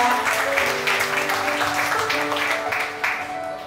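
Audience applause at a welcome gathering as a guest is introduced, steady clapping filling the room for a few seconds with faint background voices underneath.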